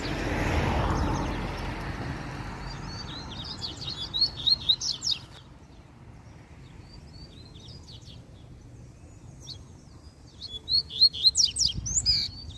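A wild double-collared seedeater sings out in the brush, bursts of bright chirping phrases coming in two clusters separated by a pause, over a faint hum of distant background noise.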